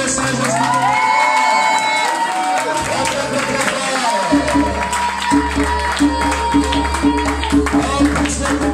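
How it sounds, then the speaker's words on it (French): A church congregation cheers and acclaims during a morning worship service, a loud sustained crowd roar with whoops and shouts, swelling and continuing over music throughout. "Est-ce qu'on peut acclamer le Seigneur Jésus-Christ?"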